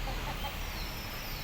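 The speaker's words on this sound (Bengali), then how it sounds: "বীর পুরুষ মোরগ।" A rooster on a small native-chicken farm clucks under a steady, hissy outdoor background, the calls fairly faint and brief.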